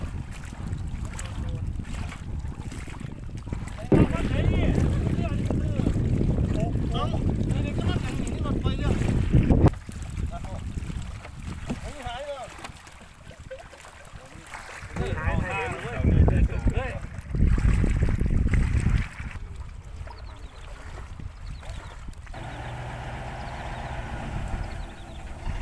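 A sand barge moving on water, its engine chugging low and steady amid gusty wind buffeting the microphone, with water sloshing and someone speaking intermittently over the noise.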